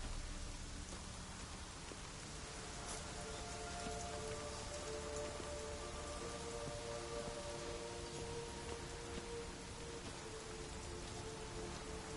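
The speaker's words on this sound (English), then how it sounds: "Looks like rain." Steady, dense rainfall in The Witcher 3 game world, a constant hiss of drops hitting surfaces with faint tonal hum beneath, unbroken throughout and no talking.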